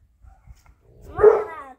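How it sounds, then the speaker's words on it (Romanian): Small dogs barking in a burst of several quick, fairly close yaps after a quiet stretch, on a sunny late-December day outdoors. "Ia auziți pe cățelușii noștri."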